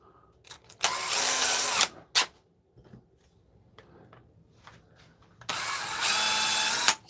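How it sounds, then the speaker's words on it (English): A step drill bit (unibit) bores a clean hole during a shower light fixture installation, heard as two loud, steady whining bursts of about a second each, separated by a brief blip and a quiet pause. "It's like a hole saw. I mean a unibit. There we go. Nice clean hole there."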